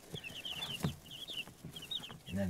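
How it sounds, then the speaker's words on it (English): A farmyard turkey clucks with soft low calls, mixed with high, thin chirps from nearby birds and steady background rustle. "This is a turkey."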